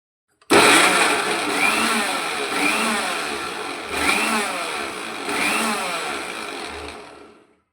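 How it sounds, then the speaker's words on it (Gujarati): A mixer grinder on pulse mode crushes Indian gooseberries (amla), a loud, close whirring motor that runs continuously with several surging pulses before cutting off. "મિક્સરને આપણે પલ્સ મોડ પર ફેરવી અને આ આમળાને ક્રશ કરીશું"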